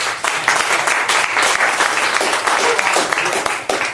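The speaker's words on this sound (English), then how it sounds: "Big round of applause." Loud, continuous clapping from an audience at a BNI business networking meeting fills the room, dense and sustained for about four seconds.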